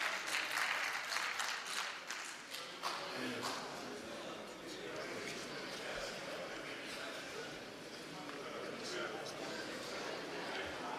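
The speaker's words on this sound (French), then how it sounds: "L'opposition est en train d'applaudir." Opposition members applaud in a national assembly chamber during the questioning of a minister, scattered clapping that starts strong then thins out, heard at a distance beneath voices talking.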